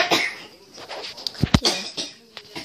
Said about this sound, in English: Sorry about her coughing.